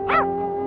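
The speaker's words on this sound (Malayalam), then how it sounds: "എന്താ ഈ പട്ടിക്ക്?" A dog gives a single short, rising-then-falling yelp or bark during a scene from a Malayalam comedy film, heard once near the start over a steady background hum.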